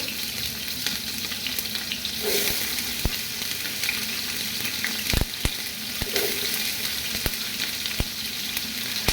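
Whole spices such as cardamom, cinnamon and bay leaves sizzle in hot ghee, a dense continuous frying hiss close up, punctuated by several sharp clicks and knocks from the pan and spoon.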